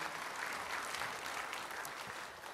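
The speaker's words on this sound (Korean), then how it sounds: "여러분 큰 박수 주세요." An audience at a televised talk concert on building cities for future generations gives a dense, even round of applause that holds steady from start to finish.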